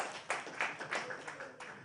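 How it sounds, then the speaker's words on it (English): An audience claps unevenly to welcome a speaker onto the stage at a media week event, with a scattering of claps rising and falling over about two seconds. "You don't want to clap for him as he comes?"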